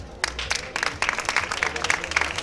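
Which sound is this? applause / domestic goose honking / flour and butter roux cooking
applause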